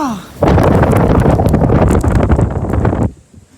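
A strong gust of roughly 40 to 50 mph in stormy, lightning-prone weather slams into the microphone as a sudden loud, buffeting roar that lasts about three seconds, then cuts back to a quieter hiss.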